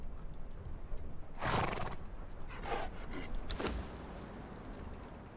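A horse in the video game Conan Exiles whinnies loudly in a few drawn-out bursts, with hoof clops in between, near and fairly clear over a low background hum.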